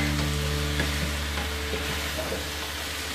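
Cabbage and mixed vegetables stir-frying over medium heat for egg fried rice, a dense, loud continuous sizzle with a low steady hum underneath and no talking.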